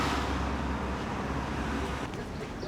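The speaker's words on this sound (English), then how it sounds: "Lots of traffic." Passing vehicles on a narrow, busy street in Burford in the English Cotswolds make a constant rumbling traffic wash that eases slightly near the end, with no voices.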